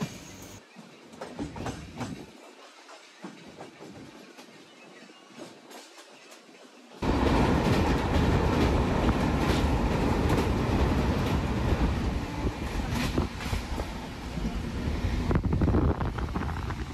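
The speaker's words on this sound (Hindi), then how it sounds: "अब हमारा अराइवल हो रहा है पिपरिया स्टेशन पर, जो कि जनशताब्दी का तीसरे नंबर का हॉल्ट है" Jan Shatabdi express (12062) train rolling toward Pipariya station in monsoon weather, with steady rumble and clickety-clack of wagons and wind buffeting the microphone, quieter at first and then a loud, sustained roar for the remainder.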